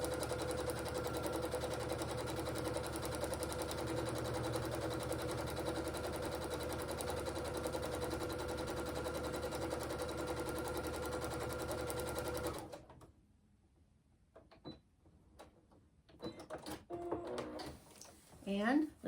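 A sewing machine stitches a line across a quilt block in a long, steady, loud mechanical whir, then stops abruptly, leaving quiet handling noises and brief talk near the end.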